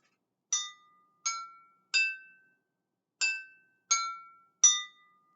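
Water glasses filled to different levels are struck one at a time in a kitchen, six clear ringing clinks in two groups of three, each tone a different pitch, each decaying quickly into silence.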